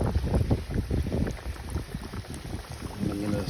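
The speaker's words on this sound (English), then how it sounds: "The wind is starting to pick up" Outdoor wind gusts buffet the microphone in irregular low rumbling bursts during an outdoor cooking session frying spicy crispy chicken, rising and falling in loudness with no voices over it.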